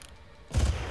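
A heavy gunshot in Far Cry booms sharp and close after a quiet lead-in, followed by a rumbling tail of a firefight.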